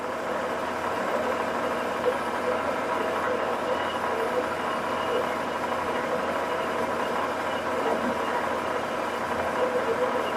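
Metal is roughed down for a #3 Morse taper with heavy, fast cuts, giving a steady broadband grinding whir that stays at an even level throughout.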